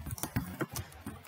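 Keys tapped on a computer keyboard in a short, irregular burst of close, clicky strokes with small gaps between them.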